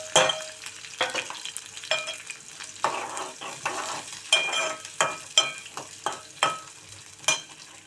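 Onion and green chilli pieces frying in hot oil with spluttering mustard seeds, a constant sizzle punctuated by a dozen or so sharp scraping stir strokes at a roughly regular pace, close up and without speech.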